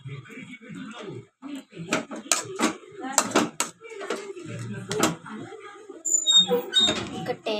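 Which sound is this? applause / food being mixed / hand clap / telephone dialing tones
food being mixed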